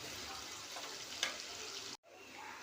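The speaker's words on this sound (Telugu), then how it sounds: "ఇలా ఆనియన్స్ మంచిగా బ్రౌన్గా మంచిగా ఫ్రై అవ్వాలి" Onions frying in a pan toward golden brown, a steady broadband sizzle with a brief stir accent midway and a short near-silent gap before the crackle resumes.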